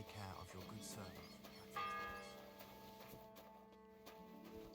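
A church bell tolls in Kingdom Come Deliverance II, its ringing tone sounding faint amid ambient game noise, hoofbeats and footsteps, with voices talking.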